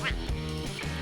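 Ducklings quack in an animal hotel game, a few short nasal calls rising over a dense bed of background music and sound.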